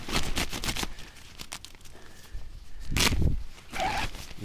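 A clothing zipper on camping gear is pulled in quick repeated rasps, close and loud, with pauses and a few longer drags during a hike-in campsite stay.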